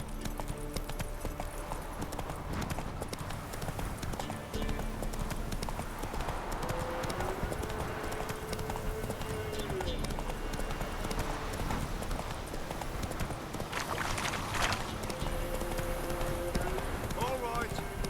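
Roach, the horse in The Witcher III, galloping with rapid rhythmic hoofbeats throughout, while game voices and music play over the steady clip-clop.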